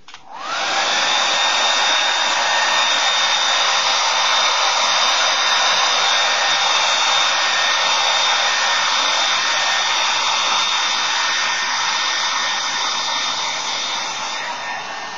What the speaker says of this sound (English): I'll finish blow drying it, and then I'll cut the video off, finish blow drying my hair